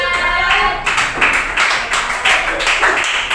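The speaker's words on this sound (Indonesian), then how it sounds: "beri tepuk tangan untuk kelompok 4" A Grade 5 class claps for a student group, loud and close, the claps falling into a quick rhythmic pattern of repeated bursts.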